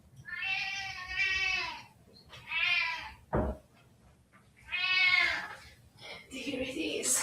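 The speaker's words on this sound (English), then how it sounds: "And of course, our cat is meowing." House cat meowing indoors, several drawn-out loud meows in a row near the microphone, with a short knock and a brief rustle between them.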